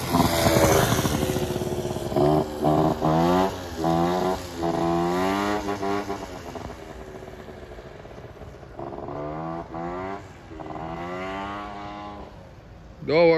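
A 2000 Honda Zip 50cc scooter running on a test ride, its small engine buzzing and rising and falling through repeated revs, heard close, with the pitch climbing and dropping several times.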